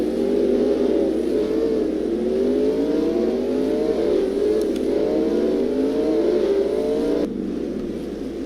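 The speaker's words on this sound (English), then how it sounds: "here come the lead pack into the pits" Formula 1 cars in a racing video game pull into the pit lane, engines holding a steady whining drone with rising and falling pitch sweeps as they roll through, loud and continuous.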